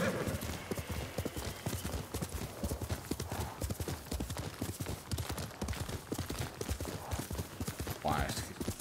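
Steady clip-clop of a trotting horse's hooves in the video game Ghost of Tsushima, rhythmic and continuous throughout, with a brief whinny near the end and a voice talking over it.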